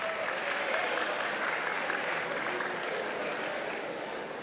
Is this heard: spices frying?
no